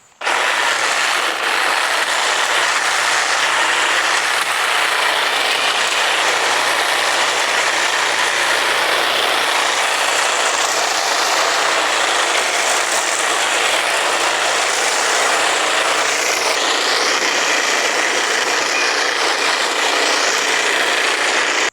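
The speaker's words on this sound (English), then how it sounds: "So I'm going to take my hedge trimmer here and clear it off" A hedge trimmer cutting poison ivy and sticks off a tree gives a loud, continuous, rattling mechanical buzz close by, unbroken for over twenty seconds.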